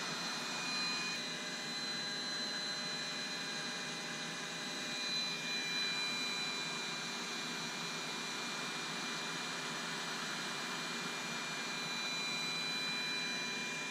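A heat gun shrinks heat shrink tubing on a battery cable for a solar battery bank, a steady close whirring blower hum with a faint whine, constant throughout with no talk.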